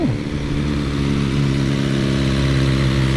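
A 2023 BMW S1000XR M Package motorcycle engine drops quickly from a rev into a steady, loud idle, its low throbbing hum held close and constant with no one talking.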